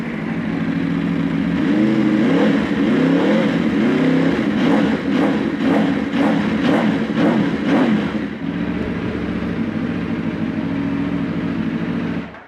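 An Aprilia RSV4 RF motorcycle fitted with an Akrapovic exhaust fires up and is revved in a series of sharp, loud throttle blips before settling back to a steady, rumbling idle, close by.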